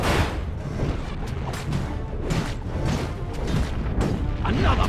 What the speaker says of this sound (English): We're going to cast grease and then light it on fire.